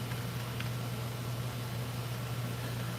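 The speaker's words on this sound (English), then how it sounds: "that's the air conditioning running" Air conditioner running in a hot room during a summer day in Ottawa, a steady low hum with broadband hiss, continuous and fairly close, with a faint brief click near the start and no voices.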